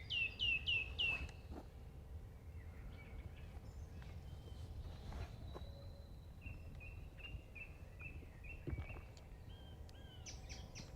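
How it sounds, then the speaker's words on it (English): Wild birds calling in open countryside: a burst of sharp descending chirps at the start, then scattered tweets and a run of repeated short calls, moderately near over a low background rumble, no talking. "Now they're talking amongst themselves about whatever birds talk about."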